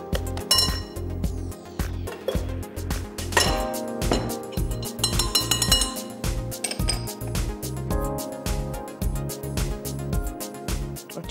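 Cookie dough with chocolate chips and walnuts being mixed in a bowl, a steady rhythm of scraping thuds and sharp clinks of utensil against the bowl, close and continuous with no talking.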